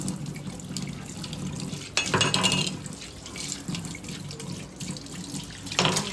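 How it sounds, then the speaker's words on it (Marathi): New kitchen knives are washed under a running tap at a sink: continuous splashing water that swells and changes as the blades move through the stream, close and moderately loud. "सर्वात पहिला मी सुऱ्या धुवून घेते"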